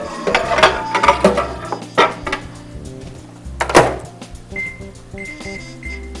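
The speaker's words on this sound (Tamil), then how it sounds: "ஓகே, இப்போ நம்ம இதை மைக்ரோவேவ்ல வச்சுட்டு" A microwave oven in a studio kitchen is loaded with kiwi mango chutney: clattering and a door thud, then a few short electronic keypad beeps as it is set running.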